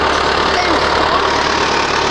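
A tractor engine runs with a steady, moderately loud mechanical drone, while voices are present in the background.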